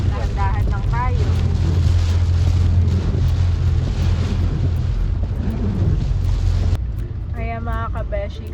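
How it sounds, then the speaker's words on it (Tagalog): Steady, heavy wind buffeting the microphone on the Santa Rosa–Tagaytay Road, a constant low roar with a vehicle rumbling underneath, and a voice speaking over it near the end. "Malakas din ang hangin"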